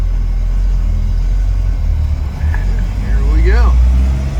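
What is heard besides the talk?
1974 Land Rover pulling away in first gear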